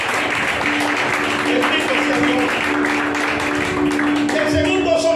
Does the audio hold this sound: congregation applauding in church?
yes